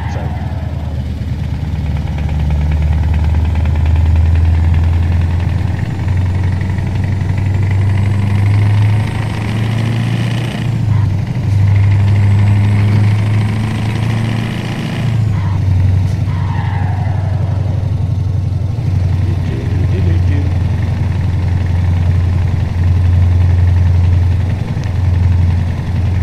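Modded truck engine sound from the T-Series truck in Euro Truck Simulator 2, a loud steady low diesel drone idling and cruising, with a few brief shifts in pitch.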